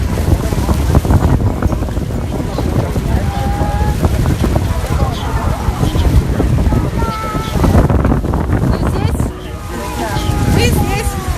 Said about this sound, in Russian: О, что-то начинает брызгать водой.